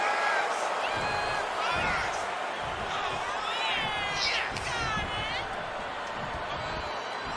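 Arena crowd in the WWE 2K25 wrestling game keeps up a steady, loud roar of cheering throughout, with whoops and shouts rising now and then, while a commentator talks over it.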